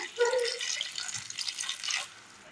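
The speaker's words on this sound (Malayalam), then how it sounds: "ആവശ്യമായ വെള്ളം ഒഴിച്ചു കൊടുക്കാം." Water poured into a pot of Kerala curry with drumstick and banana stem, a short steady splashing pour lasting about two seconds, close and moderately quiet.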